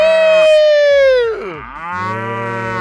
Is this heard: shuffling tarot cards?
no